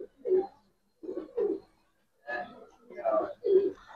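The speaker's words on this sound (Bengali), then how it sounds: "আজকে কবুতর গুলো দাঁড়াইছে খুব সুন্দর" Pigeons, including silver Giribaz birds, coo close by in a series of low, throaty bursts, two pairs of calls followed by a longer cluster of three, with short quiet gaps between.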